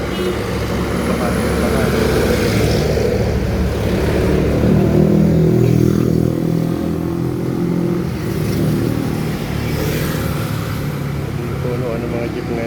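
Jeepneys and other traffic rolling along a street, a steady loud engine rumble and passing vehicles heard up close, with a person talking over the noise.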